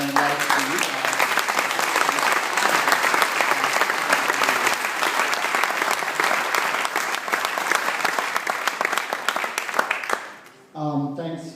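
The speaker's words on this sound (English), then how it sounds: "have everybody give a round of applause" Applause at a yacht club awards night fills the room, steady and dense for about ten seconds before fading, followed by a brief burst of voices at the end.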